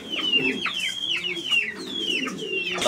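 Pigeons for sale at a market coo in soft low murmurs beneath repeated sharp, descending chirps from nearby birds, a busy, close chorus throughout.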